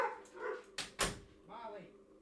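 Molly, a small dog, lets out a couple of sharp, close barks and whimpery yips, with quiet voice-like murmurs around them.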